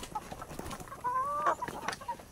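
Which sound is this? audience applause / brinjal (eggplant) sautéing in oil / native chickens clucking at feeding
native chickens clucking at feeding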